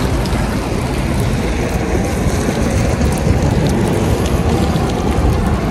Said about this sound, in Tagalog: Palakas ng palakas yung patak niya.